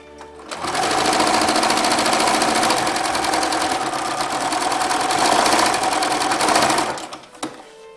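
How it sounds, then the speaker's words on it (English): A Bernina sewing machine stitching a zippered pouch runs steadily at close range for about six seconds with a fast, even mechanical hum, then stops with a couple of faint clicks. "the machine is working very well. Actually, it's a very nice machine, so just in case you're thinking, not Bernina, trust me, it's awesome."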